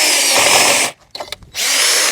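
A power drill countersinks a hole in wood with two loud, close whining bursts separated by a short pause with a few light knocks.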